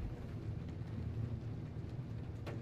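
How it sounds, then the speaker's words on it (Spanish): Quiet, steady rain with a low thundery rumble and gusty wind in the video game Shadow of the Tomb Raider, plus a faint brief crackle near the end. "Esa tormenta no me gusta."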